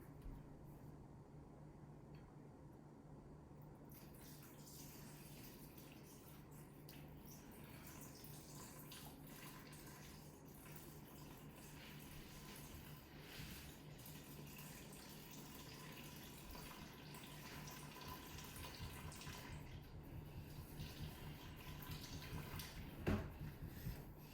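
Water runs steadily into a container while sourdough bread dough is being mixed, a faint continuous pouring hiss that swells slightly near the end and stops with a small clink.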